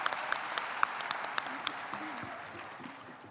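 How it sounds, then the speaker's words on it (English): Audience members at a university induction and pinning ceremony clap in a moderate, somewhat distant patter of applause, with scattered sharper claps standing out and a murmur of voices underneath. "Can we give her another round of applause?"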